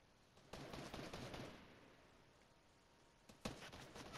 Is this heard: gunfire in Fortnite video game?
yes